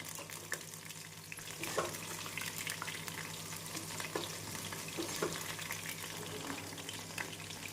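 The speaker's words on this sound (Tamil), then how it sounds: "எண்ணெய் நன்றாக சூடானதும் உதிரியாக காளானை போட்டு விடலாம்." Mushroom pieces scattered into hot oil over a medium flame fry with a steady, dense sizzle and fine crackle, faint and even throughout with a few soft stirring knocks.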